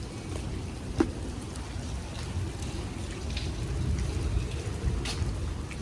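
Rain falls steadily at a boarding house on a wet day, a soft continuous hiss with scattered drip impacts and one sharper tap, fairly faint and without voices.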